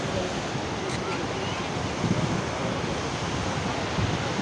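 Sea surf at Mohona beach roars in a dense, steady wash, heavily mixed with wind buffeting the microphone, loud and unbroken throughout.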